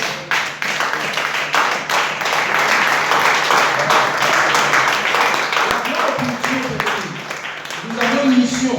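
A church congregation at a Saturday baptism service applauds and cheers loudly and steadily, a dense wash of clapping with scattered shouts throughout, voices rising above it near the end.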